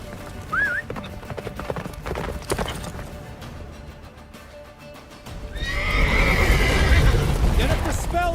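Roach, a horse in The Witcher 3, gallops with rapid hoofbeats and gives a short whinny, with a loud rushing roar building over the final seconds and speech in the mix.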